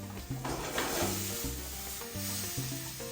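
Onions sautéing in oil with lime juice in a pan give a steady close sizzle, with low, even tones running underneath and a few soft stirring bumps.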